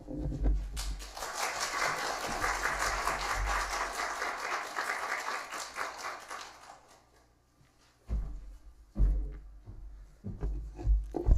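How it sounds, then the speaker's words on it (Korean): A church congregation applauds steadily for several seconds, a dense wash of clapping that fades out, followed by scattered voices after a pause. "단위 올라오실 때 큰 박수, 아멘으로 화답했으면 좋겠습니다."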